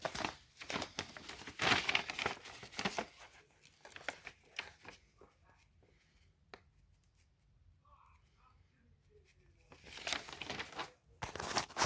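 Paper charge sheet crinkled and handled close up, bursts of rustling at the start and end with a quieter stretch between, where a voice speaks softly.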